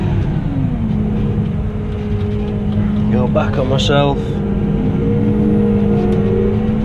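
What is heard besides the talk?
Case 240 CVX tractor with power harrow running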